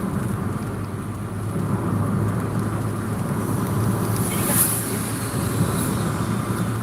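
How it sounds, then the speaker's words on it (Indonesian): Heavy rain pours down steadily during a motorbike ride near Banjarmasin, a loud, continuous wash of rainfall mixed with road and engine rumble, with no voices heard. "Hujan labet bener, sampet lagi tarang."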